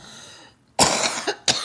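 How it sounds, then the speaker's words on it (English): A woman coughs twice, two close, loud, harsh bursts after a brief quiet pause. "Sorry, I'm going to cough."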